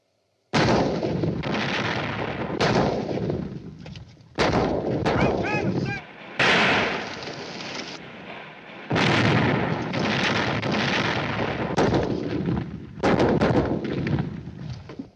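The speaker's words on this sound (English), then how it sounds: "Siege guns. Bigger than anything we've got." Heavy booming fire from siege guns in a 1955 Western, a series of loud blasts in irregular succession with rumbling decay between them, like large cannons firing nearby.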